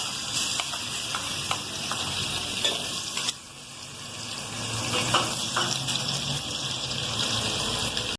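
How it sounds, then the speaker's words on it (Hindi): Steady hissing sizzle of garlic paste frying in hot oil, with occasional stirring clicks and scrapes, close and continuous. "हमने जो लहसुन का पेस्ट तैयार किया था हम इसके अंदर वो ऐड करेंगे"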